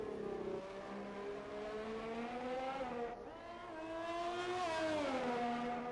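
A Haas Formula 1 car's engine in F1 2020 at the Netherlands circuit, whining steadily at high revs through a lap, dipping briefly as it shifts or brakes and then climbing again, close and loud with no talk.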